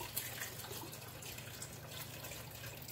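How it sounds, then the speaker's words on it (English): Chicken stock pours from a carton into a pot for keto chicken noodle soup, a continuous close splashing liquid stream at steady volume. "So now we are going to add 6 cups of chicken stock."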